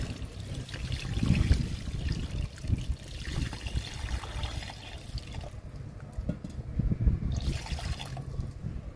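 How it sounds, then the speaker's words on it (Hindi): Water poured from a container into a large pot holding a freshly repotted pomelo plant, a steady close trickle and splash into soil with a few uneven surges, no talking. "अब आपको ये पानी देना है।"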